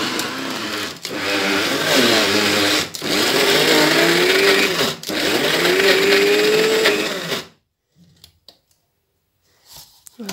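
A blender grinds peanuts with oil at full power in three long, loud bursts with short gaps between them, the motor pitch rising under load, then it stops and a few faint knocks follow in near silence.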